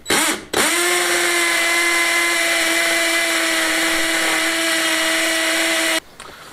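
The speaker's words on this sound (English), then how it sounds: "I'm just going to drill a hole." A power drill bores a hole into a wall during a Spanish finca renovation, a loud steady high-pitched whine that spins up quickly, holds for about five seconds and stops, with no voices.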